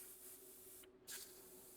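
An airbrush sprays paint onto a crankbait lure with a soft, faint continuous hiss, briefly cut off for a moment before a short stronger burst of spray resumes.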